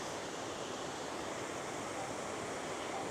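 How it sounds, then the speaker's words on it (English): A waterfall in North Bali gives a steady, dense rush of falling water, continuous and fairly faint as if heard from a distance, with no voices. "I'm going to take you across and just give you a closer view on the waterfall itself"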